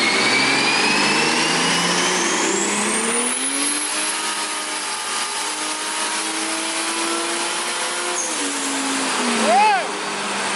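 A Mazda RX-7 with a swapped-in Toyota 2JZ engine revs hard, its pitch sweeping upward and then holding a loud, sustained howl before dropping back, with people reacting excitedly over it.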